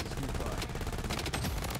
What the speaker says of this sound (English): I just shot this guy through the rooftop.